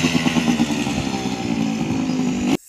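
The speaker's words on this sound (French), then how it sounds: "Ça, c'est une mob à ne pas mettre entre toutes les mains." A customized French Mobylette moped engine runs close by with a steady buzzing drone that cuts off abruptly near the end.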